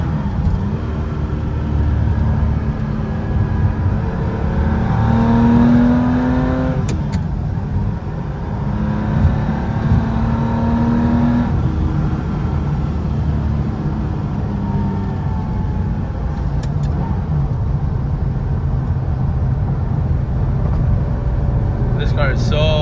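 A 1984 Porsche 911 backdated to 1977 RSR style, on new Michelin Pilot Sport tires, drones steadily and close from inside while driving, its engine pitch rising and falling through gear changes for over twenty seconds.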